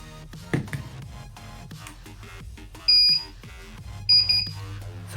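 An ECO 5 alarm panel gives two short, clear electronic beeps about a second apart to confirm a paired motion sensor, heard over a busy background of clicks and low hum.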